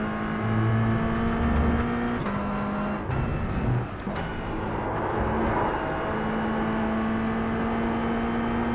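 A Mazda MX-5 race car engine in the iRacing video game at Indianapolis Motor Speedway, droning steadily and shifting pitch through gear changes, with engine noise from other cars in the background, loud and continuous.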